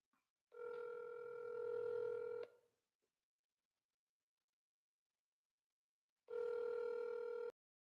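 Two bursts of telephone dialing tones, each a steady electronic beep lasting a second or two, separated by several seconds of silence.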